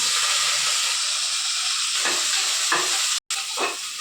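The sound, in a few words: finely chopped onions frying in oil in cooker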